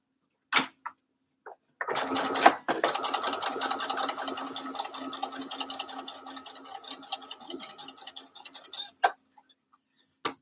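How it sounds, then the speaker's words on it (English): A domestic sewing machine stitches fabric for a dress in a fast, steady mechanical rattle lasting several seconds, framed by a few isolated clicks and knocks before and after, with no speech. "turn the fabric round and start stitching again"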